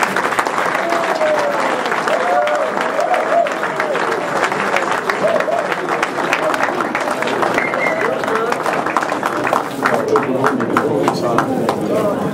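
Audience applause at a key handover ceremony in Valkeberg, a steady, loud wash of clapping with crowd voices and talk mixed in throughout.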